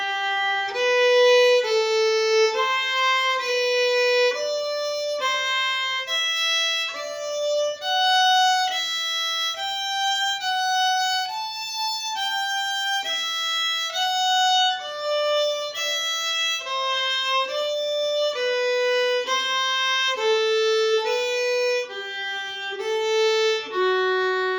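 Single clear notes of a practice scale step steadily upward and then back down in an even rhythm, bright and close, with nothing else heard.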